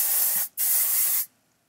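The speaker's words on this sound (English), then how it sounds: "And then I'm going to take my spray," Two bursts of hair spray from an aerosol can during vintage-wave hair styling: a short hiss, a brief gap, then a longer close hiss that cuts off cleanly into quiet.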